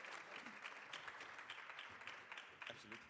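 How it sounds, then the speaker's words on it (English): A conference audience applauds a panel opening a social justice session, a steady round of clapping filling the room from start to end. "a warm round of applause to our panel as we start"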